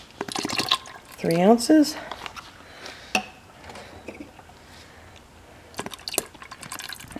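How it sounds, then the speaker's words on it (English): Fragrance oil poured into cold process soap batter gives a brief liquid trickle and dripping, heard under a person speaking close by. "Fragrance oil goes right in."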